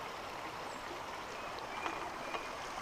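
A river flows beside the Big Run Portal Trail in Shenandoah, a faint, even rush of water with no other sounds standing out.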